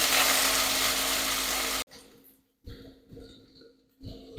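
Chopped large onions hitting hot oil with whole cumin in a pan for a Bengali mutton curry: a loud, dense sizzle that cuts off abruptly, followed by quieter intermittent frying crackles and stirring.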